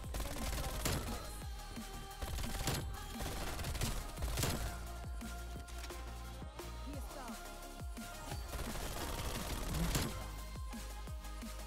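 Rapid bursts of MAC-10 submachine gun fire in the video game Black Ops, loud and dense over a steady backdrop of game music and effects, with repeated sharp shots throughout.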